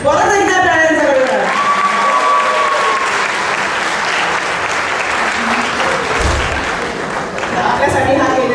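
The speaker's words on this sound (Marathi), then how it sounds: "सगळ्यांसाठी परत एकदा टाळ्यांचा गडगड" An audience at a Ganapati folk music program breaks into sustained applause, dense and loud, with a brief tonal note and a voice near the start before the clapping fills the rest.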